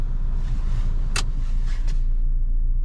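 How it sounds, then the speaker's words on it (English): A VW Golf GTI engine running very quietly gives a soft, steady low hum heard from inside the car, with a brief sharp click partway through. "I'll show you how silent the engine is."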